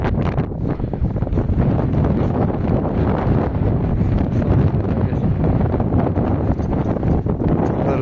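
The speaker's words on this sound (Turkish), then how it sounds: "rüzgar geliyor." Steady harsh winter wind roaring and buffeting against the microphone, a constant rumbling gust with no break.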